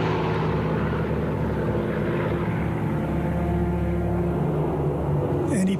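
A propeller-driven wartime fighter plane flies overhead on a rocket-firing sortie, its engine a steady, loud, droning hum that holds unbroken throughout.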